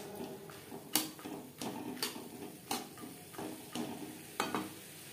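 Tomato paste for chicken vegetable soup fries in a pan, heard as soft, quiet scraping strokes at an even rhythm over a faint sizzle.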